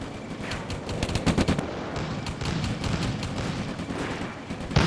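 Rapid bursts of machine-gun and rifle fire in the WWII game Combat Mission: Afrika Korps at Bir Hakeim, dense crackling volleys repeating steadily at a moderate distance with no voices.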